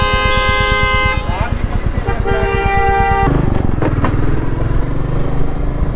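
Motorcycle riding through busy city traffic in Gurugram, engine putter under repeated car and bike horn toots, with voices around.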